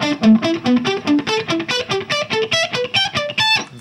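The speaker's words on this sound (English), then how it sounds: "Very staccato with the delay." Electric guitar picked in short staccato notes through a delay effect, each note echoing in a quick rhythmic pulse as a descending and rising run plays, loud and close with no talk.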